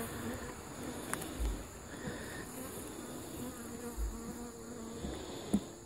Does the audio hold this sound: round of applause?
no